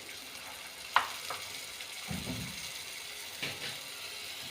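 Vinegar and soy sauce sizzle faintly in a frying pan as a utensil clicks and scrapes through the mix a few times, quiet and close with no voices.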